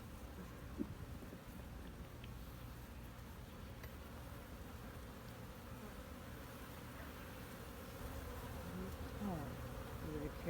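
Honeybees buzz steadily and thickly around an open hive as frames are lifted out during an inspection, a continuous close drone that swells slightly toward the end.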